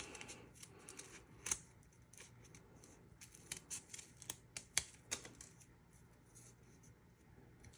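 Scissors snipping paper while cutting out a paper snowflake snowman with stick hands, a series of crisp, close, irregular snips and small clicks, quiet and without talk.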